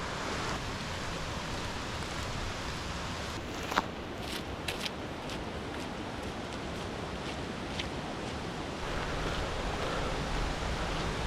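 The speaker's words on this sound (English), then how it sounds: "Oh, we've got a waterfall." A waterfall in a gorge near Aberfeldy gives a steady, broad rush of falling water that holds constant and close throughout, with a few faint clicks over the roar.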